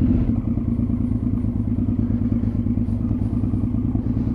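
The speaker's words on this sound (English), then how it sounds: "So just pulling back onto the yard, Triumph Speed Triple 955." A Triumph Speed Triple 955 motorcycle rolls into a yard with its engine running close by, a loud, steady, throbbing low rumble with a rapid pulsing beat and faint clatter.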